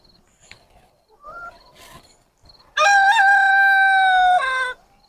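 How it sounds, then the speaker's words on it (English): A rooster crows once, loud and close, in a winter chicken enclosure, a long harmonic call following a few faint clucks and bird sounds. "And there goes the rooster."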